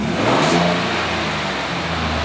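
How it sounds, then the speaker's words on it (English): A car engine revving hard in one brief sustained burst, loud and close, the pitch climbing then holding, with no talking over it. "Should I rev the engine to produce more fumes faster?"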